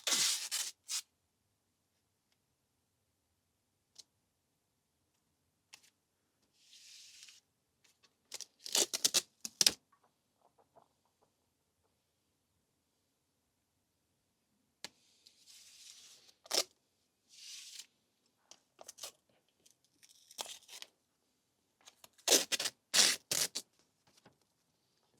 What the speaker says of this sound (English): I'm just going to mask off this and then use a Stanley knife to cut it all out